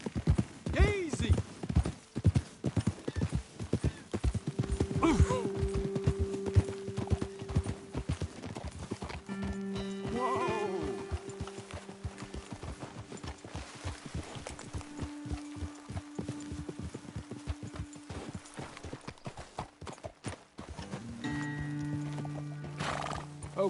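Horses in the Western video game Red Dead Redemption 2 clip-clop at a trot on a trail, hooves drumming steadily and close while a horse neighs loudly several times, with a rider's voice calling out over the hoofbeats.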